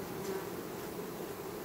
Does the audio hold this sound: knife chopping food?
no